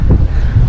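Cold wind blowing across the hilltop at Dalai Hills in Mussoorie, a brief loud rush of gusty noise buffeting the microphone.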